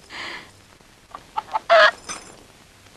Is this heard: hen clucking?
yes